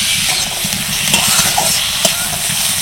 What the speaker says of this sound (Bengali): মটরশুঁটিটাকে কিন্তু হালকা তেলের মধ্যে ভাজতে হবে